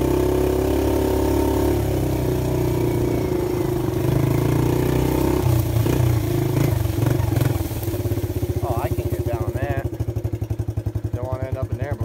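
A 1983 Suzuki LT125 engine idles with a steady low drone, then chugs and pulses as the rider sets off, close and loud throughout.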